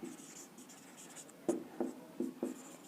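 Pen scratching on paper while working a Class 10 arithmetic progression problem, a soft steady scribble followed by four distinct short strokes, fairly close and alone without talk.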